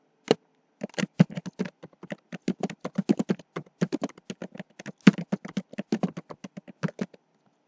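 Keys clatter on a computer keyboard as commands are typed into a Linux terminal editor, with close, crisp, irregular taps in quick runs separated by brief pauses.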